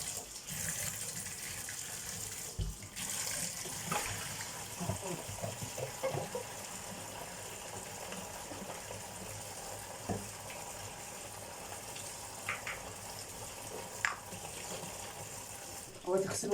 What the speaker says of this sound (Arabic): نغسل بقى الازايز